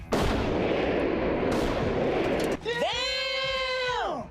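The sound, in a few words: explosive blast under a Hummer vehicle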